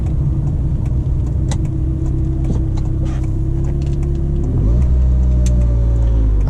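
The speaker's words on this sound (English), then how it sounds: "I'm just cruising in third gear right now" A 1989 Ferrari Mondial T coupe cruises in third gear, its engine a loud steady drone heard from inside the car that shifts and rises in pitch about two-thirds of the way through.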